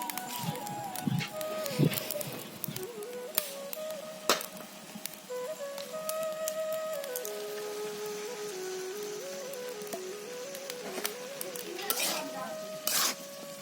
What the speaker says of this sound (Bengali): এখন আমি এই ভুঁড়িগুলো কড়াইয়ের ভিতর দিয়ে দেব।